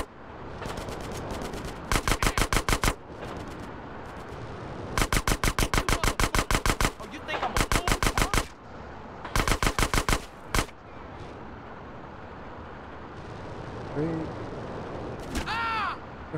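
Several rapid bursts of automatic gunfire in the video game GTA San Andreas, each about a second long, separated by pauses, with a low background hum and a brief squeal near the end.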